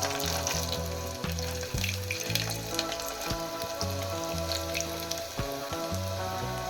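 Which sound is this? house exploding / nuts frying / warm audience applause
nuts frying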